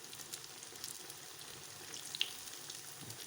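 Cauliflower fritters frying in hot oil, a faint continuous crackle and sizzle with small pops, quiet and steady.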